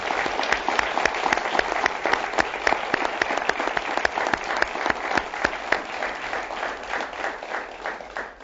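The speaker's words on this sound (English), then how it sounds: "Let's give a round of applause to our progress thus far and to an even better future" A panel-event audience at a Latino State of the Union gathering breaks into steady, sustained applause, a dense wash of many hands clapping at even loudness throughout, with no voices over it.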